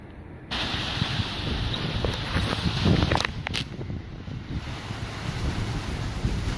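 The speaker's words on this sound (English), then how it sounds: "It's really windy." Strong coastal wind blows constantly into the microphone with a loud roaring rumble, and a few faint clatters sound partway through.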